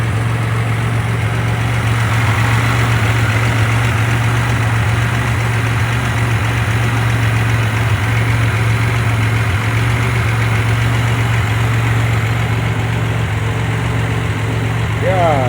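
A 2007 Pontiac Grand Prix with eBay SD headers and a catless downpipe idles close by, a loud steady low drone with constant vibration and no break for the whole stretch.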